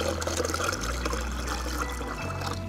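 About half a litre of water is poured into roughly 400 ml of liquid to dilute an organic pesticide made with garlic and curd, a close, continuous trickling gurgle lasting a few seconds with no talk.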